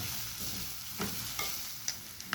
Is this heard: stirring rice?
yes